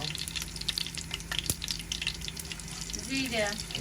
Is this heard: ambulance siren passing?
no